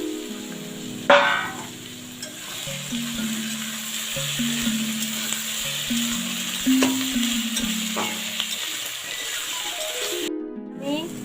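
Steady sizzling of eggplant and tomato frying in a pan, with scraping stirring sounds throughout and a soft voice speaking in the background.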